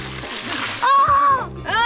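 Water from an overfilled bucket splashes and spills during an outdoor team challenge, a loud burst of sloshing and splatter lasting about a second, with voices shouting before and after.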